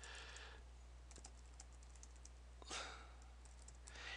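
Typing a message on a computer keyboard: faint, quick bursts of key clicks separated by pauses, close up in a quiet room.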